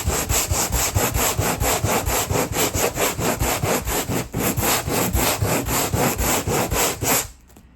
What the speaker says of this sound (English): So if I start sanding,